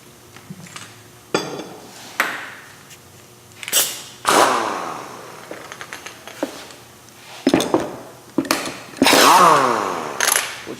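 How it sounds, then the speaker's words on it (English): Pneumatic impact gun tightening a wheel bearing hub nut on a 1999 Jeep Grand Cherokee, heard as several short, sharp bursts of rattling hammering spaced apart, mixed with metallic clanks in a workshop. "preliminarily we're just going to tighten it with the gun"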